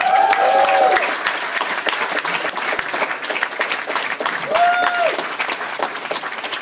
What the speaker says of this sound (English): I need the loudest cheer from all of you for Tejas